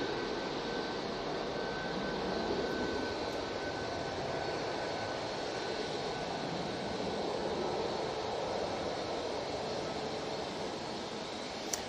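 A Ryanair Boeing 737 Max at Manchester Airport, its engines a steady broadband roar held at even loudness throughout, with no talk.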